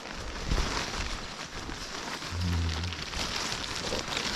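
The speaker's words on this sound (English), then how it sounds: "Just started raining a little bit when I finally decided to come outside." Light rain falling outdoors during a woodland mushroom hunt, a steady soft broadband hiss of drops on surfaces lasting throughout, with a brief low hum partway through and no talking.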